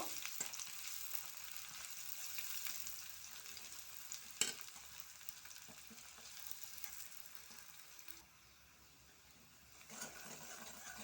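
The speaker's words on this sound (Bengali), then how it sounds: "দিয়ে দেব পেঁয়াজ কুচি, পেঁয়াজটা ভালো করে লাল করে নিব।" Chopped onion frying in a pan with a few cumin seeds, a soft continuous sizzle with occasional stirring clicks and scrapes, fairly quiet and without talk.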